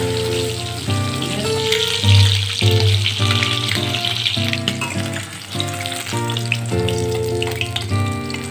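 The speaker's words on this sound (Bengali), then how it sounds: "এখন আমি মাছগুলো ভেজে নিচ্ছি।" Small river fish (kakle) coated in salt and turmeric fry in hot oil in a home kitchen, giving a close, continuous, dense sizzle with crackling pops throughout.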